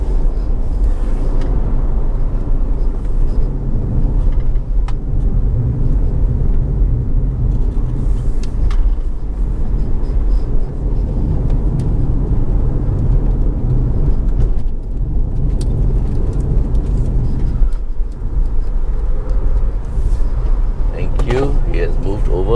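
An Ora Good Cat electric car on economy tires climbs a mountain road, giving a steady low rumble of road and tire noise throughout, with occasional voices talking over it inside the cabin.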